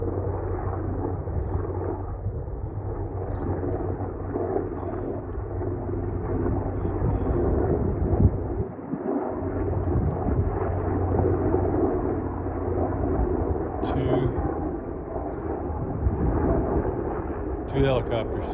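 Two helicopters fly overhead, a deep, continuous rotor drone rumbling for the whole stretch, loud and steady with a low throbbing character, passing close above.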